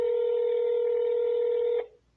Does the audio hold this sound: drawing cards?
no